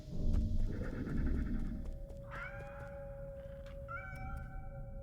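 Cat meows from the video game Nine Sols, a few short tonal calls rising over low rumbling game audio and music, moderately loud.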